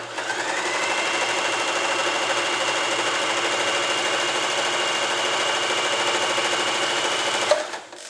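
A Swiss Elna EL2000 sewing machine stitches zigzag at a short stitch length, a steady fast mechanical whir running continuously for several seconds before stopping abruptly with a small clunk.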